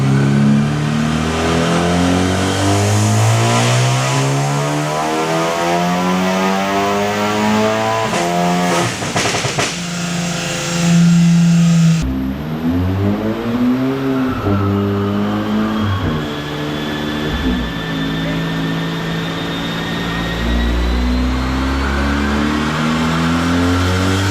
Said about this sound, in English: Full throttle, all the way red line.